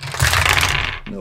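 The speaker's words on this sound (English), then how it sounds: "you put the dice up there, you tip it down, it flips down and in" Plastic dice tumble down through a Lego brick dice tower, a bright rattling clatter that runs continuously and then stops abruptly near the end.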